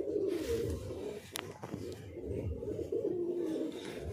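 Fancy pigeons coo repeatedly in a loft, soft low warbling calls from several birds overlapping close by, with a brief flutter in the middle and no talking.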